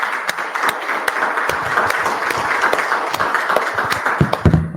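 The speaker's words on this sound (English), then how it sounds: "I was clapping for Vance." Audience applause in a church hall after a sermon, a loud dense stretch of clapping from many people that continues steadily for several seconds.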